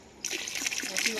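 Water filling a container late at night, a steady splashing trickle that starts abruptly and runs on continuously, close by, with voices faintly present.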